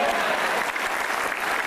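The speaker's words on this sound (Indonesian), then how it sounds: "Silakan tepuk tangan." Audience at a stand-up comedy show applauding, a dense even wash of clapping that holds steady and fairly loud throughout.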